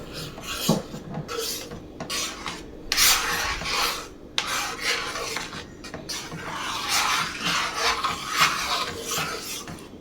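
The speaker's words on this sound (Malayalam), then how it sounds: "അത് നമുക്ക് ഒഴിച്ച് ഇളക്കി കൊടുക്കാം." Spoon stirring custard powder mixed with milk in a pot, for mango rasmalai: repeated scraping, rubbing strokes against the pot, close and fairly loud, with brief pauses between bursts.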